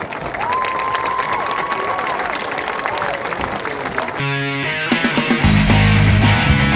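Crowd applause and cheering at a 2013 high school homecoming football game, a broad steady roar of clapping that continues as loud sustained tones and a musical chord come in over it midway.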